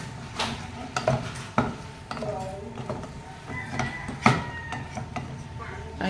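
Pork mixed with salt and MSG in a pot for sinigang, with a spoon scraping and clinking against the metal in irregular strokes near the microphone, while a person talks over it.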